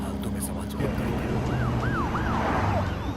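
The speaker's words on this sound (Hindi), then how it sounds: "पुलिस की गाड़ी आ रही है" A police car siren in a Hindi-dubbed film scene wails in repeated rising and falling sweeps, moderately loud over a dense low rumble of traffic and ambient noise.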